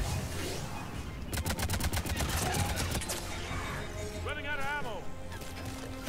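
Gunfire rings out in the video game Mass Effect 3 as a rapid volley of sharp shots crackles for a couple of seconds, then fades. Players talk over the shooting, and other game effects follow.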